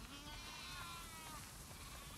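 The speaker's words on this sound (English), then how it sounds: "Wow, that's a lot of sheep." A flock of sheep bleats continuously in The Last of Us Part II, many overlapping wavering calls forming a dense, steady chorus at moderate distance.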